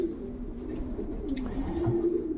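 Pigeons coo in a steady low murmur, close by and continuous, with several overlapping birds at a show of prize-quality pigeons.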